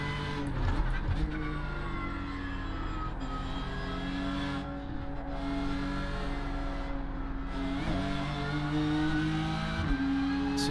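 A BMW M4 GT3 race car in iRacing roars through a lap, engine note climbing and dropping with upshifts and downshifts, loud and continuous from the cockpit with no voices.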